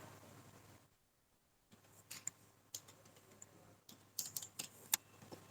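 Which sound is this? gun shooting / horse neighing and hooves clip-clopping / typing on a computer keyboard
typing on a computer keyboard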